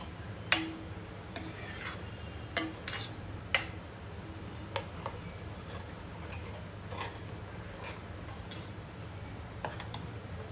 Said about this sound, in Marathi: हे आता प्रॉपर मिक्स करून घ्यायचं.